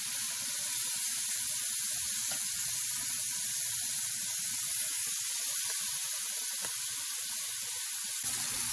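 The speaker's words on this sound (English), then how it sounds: "add in your meat quickly so that way it doesn't burn everything" A mojo-marinated steak sears in a hot pan with a steady, close sizzle and hiss that holds evenly without talk.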